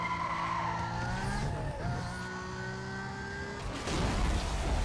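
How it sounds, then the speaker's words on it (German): A car in Need for Speed Most Wanted drives through a police roadblock: a steady, loud engine drone with rising pitch and tire squeal, ending in a harsher noisy burst as it breaks through. "Fahrzeug fährt durch die Straßensperre."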